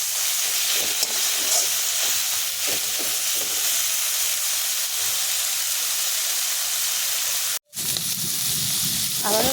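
Fiddlehead greens (dheki shak) and shrimp frying in a pan, a loud continuous sizzle and hiss with occasional scraping stirs, cutting out briefly near the end before resuming.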